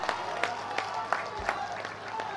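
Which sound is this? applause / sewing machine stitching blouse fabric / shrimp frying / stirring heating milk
applause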